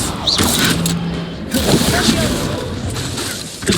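A Confringo spell is cast during Hogwarts Legacy combat, giving a dense, rumbling burst of fiery blasts and thuds that stay loud and busy throughout, with a brief tonal hum partway through and faint voices mixed in.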